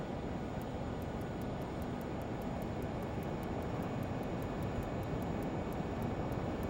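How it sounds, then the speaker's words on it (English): Twin engines of a Learjet 35A in Microsoft Flight Simulator 2020 roar steadily and loudly as the throttle is raised, a dense, even jet rumble with faint regular ticking on top and no speech. "now let's raise the throttle a bit"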